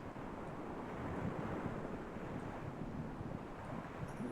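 Gusty northwest wind and rough sea waves in Microsoft Flight Simulator, a steady dense rush of wind noise and surf wash, moderately loud and continuous without talk.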